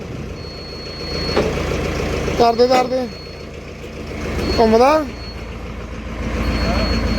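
A tractor being driven out rumbles steadily at close range beneath men's conversation and grows louder toward the end as it moves off.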